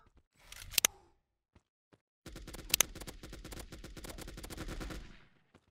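Gunfire in the mobile FPS game Fire Strike: a short burst of shots, a pause with a couple of faint clicks, then a longer rapid automatic stream of close, crisp shots that fades out.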